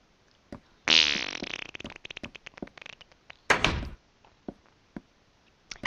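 A voice imitates a fart with the mouth, one long sputtering blurt followed by a second shorter raspberry, close and alone among scattered small clicks and taps in a Minecraft play session.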